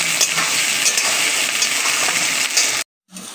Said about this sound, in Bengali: প্রথমে আমি বিনসগুলো ভাজবো।